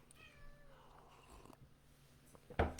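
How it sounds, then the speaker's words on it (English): A black cat gives a faint, drawn-out meow in a quiet indoor room, followed by a brief louder bump or rustle at the end. "Oh my gosh, Kitty. Hush. That's your black fuzzy butt"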